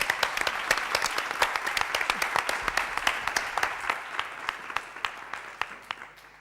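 Debate audience applauding in a hall, many hands clapping in a steady, crisp patter that gradually thins and fades toward the end.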